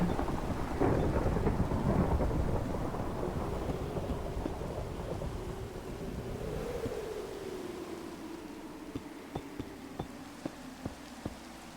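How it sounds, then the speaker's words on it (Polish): Rain falls in a dense hiss while a long, rolling rumble of thunder builds and fades in Minecraft, followed by a few sharp ticks. No one speaks. "jak nie piorun czaśnie"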